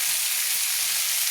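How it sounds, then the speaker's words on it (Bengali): Malabar spinach stems and potatoes frying in oil in a pan while being stirred with a spatula, giving a steady, even sizzle throughout with no talking. "পুঁই মেচুরি আর আলুগুলো কিন্তু আমি একসঙ্গে আমি দেখুন তেলের মধ্যে কষিয়ে নিচ্ছি।"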